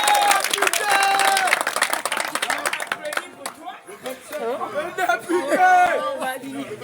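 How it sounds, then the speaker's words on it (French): Crowd at a political meeting of a newly elected deputy claps and cheers, a burst of applause that fades into chatter and voices with some music-like tones underneath. "Applaudissez pour vous."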